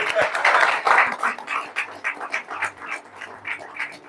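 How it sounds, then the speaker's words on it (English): Scattered clapping breaks out at a national farmers and fishers recognition awards ceremony, starting as a fuller burst and thinning into uneven, rhythmic claps by the end. "Let's just give them a round of applause"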